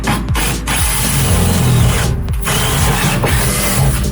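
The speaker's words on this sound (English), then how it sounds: "what I'm doing is I'm drilling a hole, an 8mm hole," A loud power drill whirs steadily up close, its motor grinding and rattling with brief dips in pitch as it bores an 8mm hole into a Ford Transit van's metal roof.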